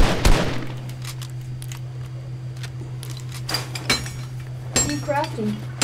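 Weapon crafting in Fortnite, turning into a rapid fire SMG: a burst of clattering metallic clinks and clicks at the start, then scattered sharp mechanical clanks and a rising chime near the end, with voices talking throughout.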